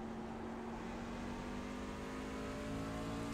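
Racing truck engine in an esports racing video game, a steady droning hum with a sustained tonal whine, holding an even level throughout without passes or talk.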